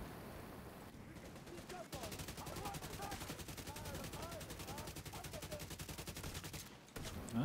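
Rapid sustained automatic gunfire from The Division video game, a dense rattling burst lasting several seconds, fairly faint overall, with brief pauses at the start and end.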